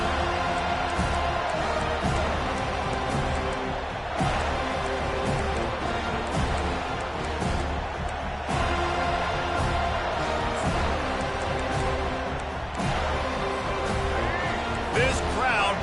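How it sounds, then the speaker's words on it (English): Dense stadium crowd roar at a Florida State versus Virginia Tech college football game, a loud continuous wash of cheering and noise filling the whole stretch, with a commentator talking over it. "This crowd bringing an ear-splitting welcome to their visitors."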